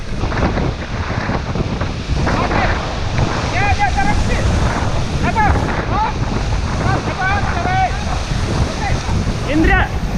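Whitewater rafting on the Selway River, with loud rushing water, wind buffeting and paddles splashing. Voices shout and call out over the roar of the river.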